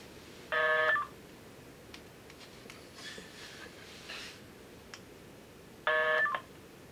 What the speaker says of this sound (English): So I can just continually dial.